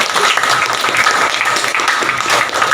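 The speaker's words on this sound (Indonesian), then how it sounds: "beri tepuk tangan dong" Audience applause in a classroom lesson on differentiated learning, a dense, steady wash of clapping filling the whole short stretch at close range without a break.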